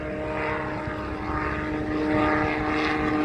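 Propeller-driven fixed-wing airplane passing at an airport on a busy, crosswind-affected day, its steady engine drone swelling slightly as it moves by at moderate distance, with no talk.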